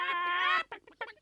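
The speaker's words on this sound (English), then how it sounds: "Where are the hens? Where have they gone? There they go, flapping down the street." A loud, drawn-out squawk with a rising harmonic tone, followed by a couple of short clucks from nearby hens in a children's cartoon.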